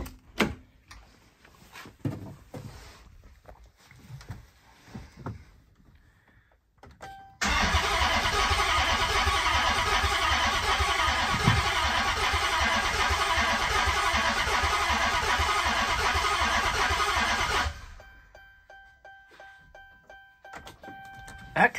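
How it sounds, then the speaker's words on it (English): A Dodge Charger engine cranks without catching, a loud, continuous, buzzing starter grind lasting about ten seconds, with quieter handling noises before and after. "That kind of sounded like it was trying to start."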